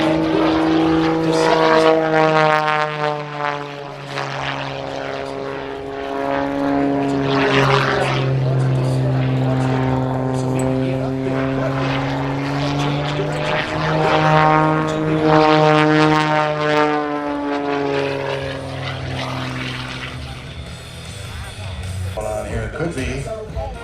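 A vintage propeller airplane passes low over an airshow, its droning engine and buzzing prop rising and falling in pitch as it flies by, loud and sustained, with a crowd faintly audible around it.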